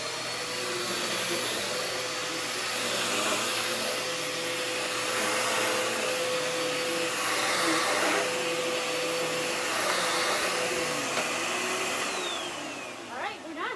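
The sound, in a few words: vacuum cleaner vacuuming outside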